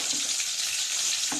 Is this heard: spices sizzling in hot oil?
yes